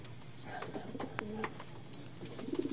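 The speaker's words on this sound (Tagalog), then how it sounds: "Magbababaan na mga kalapatids. Medyo dumadayo na sila mga kalapatids." Pigeons cooing softly as they come in to land at a loft, a few low murmuring coos over faint background noise.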